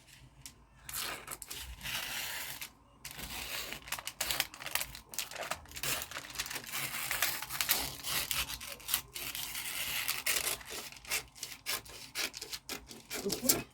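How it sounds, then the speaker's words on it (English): Scissors cut a gown piece out of fabric up close, giving uneven runs of rasping snips and cloth rustling with short pauses between them. "the next thing we're going to do is to go ahead and cut this piece out"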